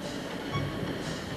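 Express train running at Victoria Station, London, heard as a steady rumble of rolling rail cars, moderately loud and continuous through the moment, with no voices.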